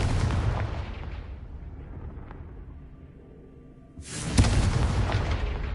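Confringo fire spell exploding in a Harry Potter video game: a loud booming blast that rumbles away and fades into quiet, followed by a second heavy explosion about four seconds later, with no talking.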